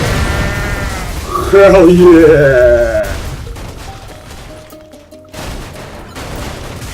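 A goat in the game Goat Simulator lets out a loud, wavering bleat, preceded and followed by game noise, with someone talking over parts of it.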